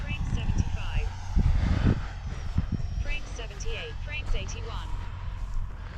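A Freewing F-35 RC jet with a 5280RC afterburner flies overhead, its engine whine rising and falling as it passes at middle distance, with people talking over it.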